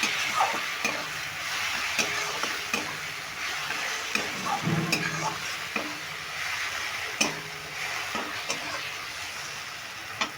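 Tadka masala for egg tadka is stirred in a frying pan, with a constant bright sizzle under repeated spatula scrapes and light metallic ticks against the pan throughout.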